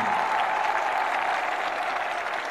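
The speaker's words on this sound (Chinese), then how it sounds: "我们掌声送给来自蒙古族的尔" Steady, dense applause from an audience at a live caged MMA fight event in a television studio as a fighter is introduced, filling the space evenly throughout.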